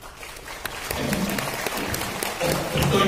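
An audience claps at a Vietnamese sales talk, with a dense, steady burst of applause that builds slightly and runs throughout.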